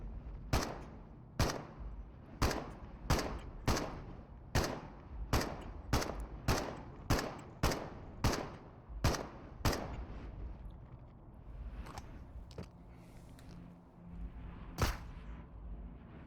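Gunfire in the video game Into the Radius: a steady run of about fifteen loud single shots at an even pace, then a few more spaced shots after a pause, with quiet background.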